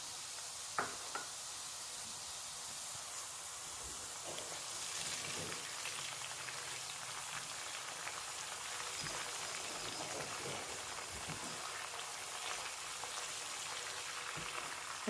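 Garlic ginger paste and cumin sizzle in hot oil with onions in a pan, a steady soft crackle and hiss running throughout with a few louder pops and knocks.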